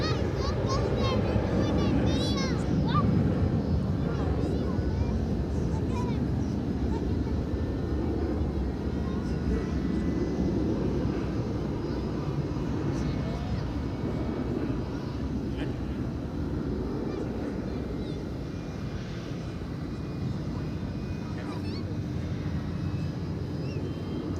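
A UPS MD-11 tri-jet backs out at DFW airport at night, its engines producing a sustained broadband rumble that eases slightly toward the end, with faint voices in the background.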